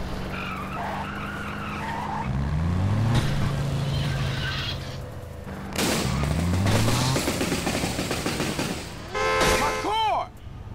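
Tire skids from a modded GTA San Andreas car, with screeching tonal squeals sliding in pitch in several separate bursts over engine noise and crashes, plus a sharp high chirping squeal near the end.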